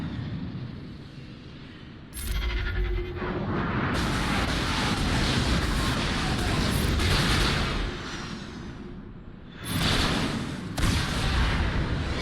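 Bombs go off in Star Wars Galaxy of Heroes battle, a dense, loud wash of rumbling blasts and crackling bursts layered over continuous game noise, with sharper explosive surges near the start and again toward the end.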